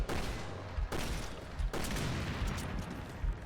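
Rapid Magnum gunfire in Resident Evil Revelations 2, a dense string of loud, close shots with a few sharp peaks standing out from continuous battle noise.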